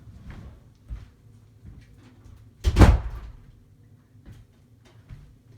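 A house door is pushed shut with one firm thud and a short rattle midway, preceded and followed by soft scattered knocks and movement in a quiet room.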